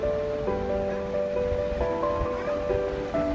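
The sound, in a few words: mixer grinder grinding peanuts and green chillies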